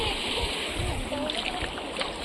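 A girl swimming in deep water, splashing in a brief, fairly faint burst of churning water with a steady background wash, with a voice faintly present.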